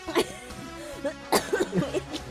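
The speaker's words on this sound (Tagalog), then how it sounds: "inuubo na ako." A few sharp coughs, close and fairly loud, with short harsh bursts separated by pauses and some throaty vocal noise in between.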